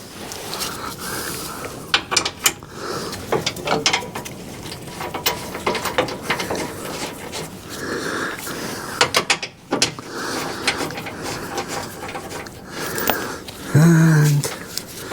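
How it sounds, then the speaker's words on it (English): Ratchet clicking in short bursts while tightening bolts on a Jeep 2.8 CRD fuel filter, close up, with pauses, shuffling and sniffs between runs. "Put all your wee bolts in."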